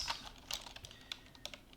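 Fast, close typing on a computer keyboard, a steady stream of light key clicks with a few sharper taps, no talking.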